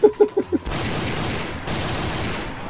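Gunfire in the video game Garry's Mod: a quick burst of four or five loud shots in the first half-second, then a sustained, noisy rush of game sound that follows to the end.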